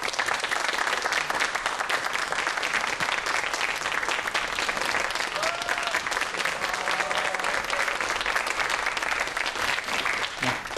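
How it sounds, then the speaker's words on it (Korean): A studio audience claps to welcome a particle physicist lecturer onto the stage of a Korean science talk show, a full, even burst of applause sustained for about eleven seconds with no speech over it. "큰 박수로 맞이해 주십시오."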